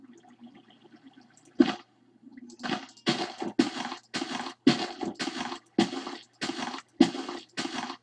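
Water flowing in Minecraft comes in repeated broadband rushing bursts, about eight surges of roughly half a second each separated by short gaps, moderately loud and close, with no talking over them.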